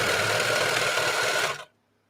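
A serger sewing machine runs fast and loud up close, a dense, even mechanical whir that stops abruptly after about a second and a half, leaving near silence.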